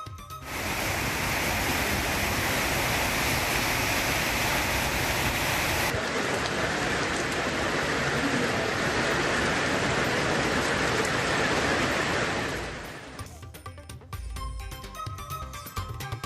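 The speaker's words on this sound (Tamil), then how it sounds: "குன்னூர், மேலூர் உள்ளிட்ட பல்வேறு பகுதிகளில் பலத்த மழை" Heavy rain pours down steadily in a dense, loud hiss for most of the stretch, then eases toward the end into a thinner patter with scattered drips.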